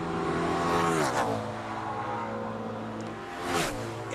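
NASCAR stock car on a 2004 qualifying lap at Dover, its engine note swelling as it roars past, then falling in pitch with a Doppler sweep, with a second rising surge near the end; no talk.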